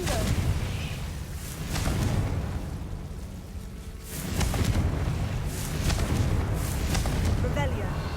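Booming blasts from the Confringo fire spell in the video game Hogwarts Legacy echo through a mine, rolling bursts that swell and fade amid game noise while someone talks.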